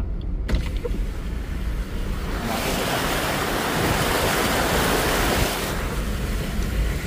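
Heavy floodwater from rain rushing in Devgad, a loud continuous roaring wash that surges louder midway, with a vehicle engine faintly beneath the torrent.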